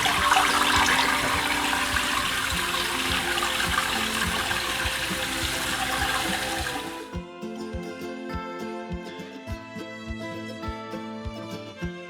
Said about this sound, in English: I'm gonna throw them over here into a colander so that I can rinse them.